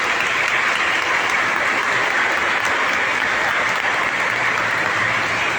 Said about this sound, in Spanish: Y vamos a darles a todos estos niños un fuerte aplauso